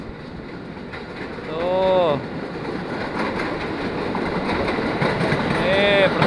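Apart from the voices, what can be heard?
train passing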